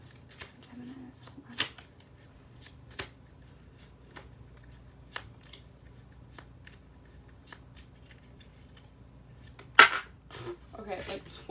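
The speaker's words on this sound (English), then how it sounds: "I'm going to pull a few love oracle cards" Love oracle cards being shuffled by hand, sparse crisp flicks and taps scattered through a quiet stretch, followed by a louder burst of card riffling near the end.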